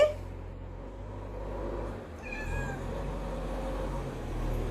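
A pet cat meows a few times at close range, mid-pitched calls rising over a steady low background rumble, with no talking.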